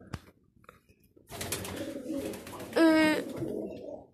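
Pigeons coo softly nearby, a low throaty call rising over quiet rustling, with a louder coo standing out near the end.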